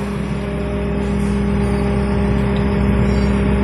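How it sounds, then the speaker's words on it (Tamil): A JCB telehandler's diesel engine revs in neutral, a steady, loud drone that builds slightly over a few seconds with no voices. "என்ஜின் ரேஸ் ஆகிறத பார்க்கலாம்."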